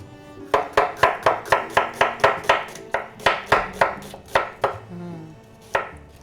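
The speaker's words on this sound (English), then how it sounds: "I don't want to finely chop the onions because I want to see a little bit of it in there." A knife chops onions on a cutting board for an Ethiopian gomen dish, giving a steady run of crisp, close thunks at a brisk, even rhythm, with one short pause before the last few strokes.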